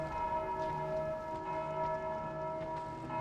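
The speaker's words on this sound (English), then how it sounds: "Yeah, there's that bell." A bell in the video game Dark Souls 2 rings with sustained, steady tones that hang over a faint background, with no talking.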